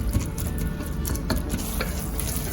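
Chopped tomatoes cooking down to mush in oil or ghee in a pan for a veggie biryani, giving a steady low sizzle with occasional stirring scrapes and soft spatters, close and continuous.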